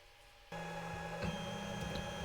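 An Ender 5 Plus 3D printer runs close by, a steady mechanical hum with a fan drone that steps up in loudness, overlaid by shifting stepper-motor whines as the head moves.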